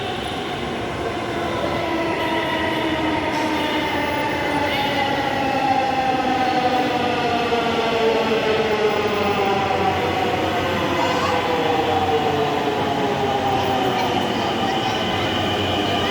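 A metro rail train passes in Mirpur, a loud, sustained rumble of wheels on track with rising and falling metallic squeals, close and continuous throughout.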